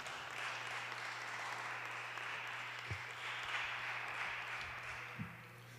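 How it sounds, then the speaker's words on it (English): An audience claps at a songwriters' storytelling event, a steady broad wash of applause lasting several seconds before tapering off, with a low steady hum underneath. "I was waiting for the clapping to come out"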